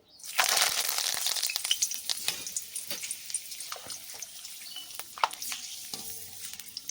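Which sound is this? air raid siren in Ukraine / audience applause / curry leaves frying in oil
curry leaves frying in oil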